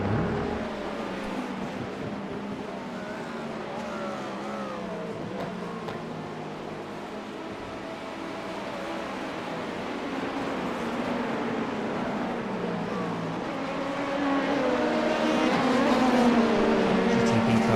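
GTP prototype race cars pass on track during an IMSA race in iRacing, with steady engine whine and pitch sweeps that rise and fall as cars close in, swelling louder near the end.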